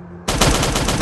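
An Uzi fires in the video game Last Day on Earth, a loud, dense burst of rapid automatic gunfire that starts abruptly after a brief quiet hum and continues to the end.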